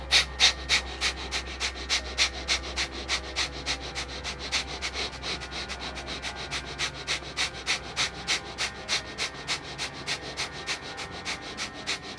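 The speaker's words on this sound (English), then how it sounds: "And then we repeat fast breathing." Fast, rhythmic breathing through the nose in a tantric breathing exercise, with steady, evenly spaced sniffing pulses that run continuously and close to the listener, with no talk over them.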